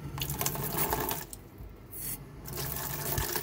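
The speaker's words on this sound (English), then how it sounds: "let me just show you, the water still runs." Water runs from an RV faucet in freezing weather, a steady rushing splash close by that changes briefly partway through before carrying on, with no talking.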